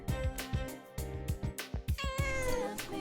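A cat meows in Persona 4 Golden, several clear game-audio mews sounding over a looping background music track with steady rhythmic beats.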